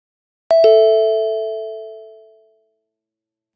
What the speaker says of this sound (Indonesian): begitu mendengar bunyi bel